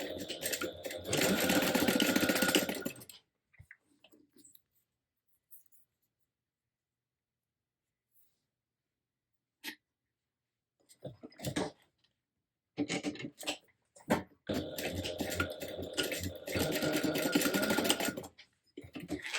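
A sewing machine bastes a quarter-inch seam on a clear Oro Rosa Catalina bag, running in two loud bursts at the start and end with a long quiet gap and scattered handling clicks between.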